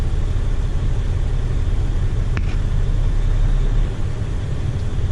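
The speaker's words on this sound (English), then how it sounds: "So I'm going to put it into first gear. I'm going to slowly tug the truck." A 2007 Freightliner Columbia truck idles and rumbles steadily in first gear during a slow tug test, a loud, close low engine drone with a single brief click midway.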